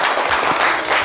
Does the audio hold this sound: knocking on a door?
no